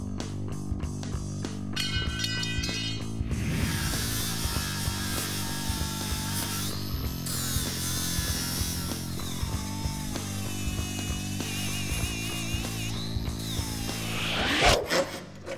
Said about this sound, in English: we're gonna grab the Sawzall and cut off the rear tie-down tube to make room for the bed